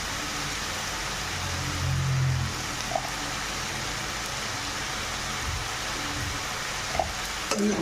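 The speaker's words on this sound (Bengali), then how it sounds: "হলুদ দিয়ে ভাজা ভাজা করবো।" Spinach, eggplant and potato frying with turmeric, a continuous close sizzle with occasional stirring knocks and a low hum briefly rising, no one speaking.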